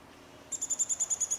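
A wild bird gives a single very fast trill of rapid high-pitched notes, about ten pulses evenly spaced and slightly falling in tone, clear against a quiet background.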